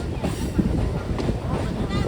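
A MEMU passenger train pulling out of a station makes a steady rumble and rolling noise close by, with wind buffeting the microphone and faint voices mixed in.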